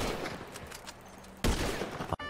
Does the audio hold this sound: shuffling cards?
no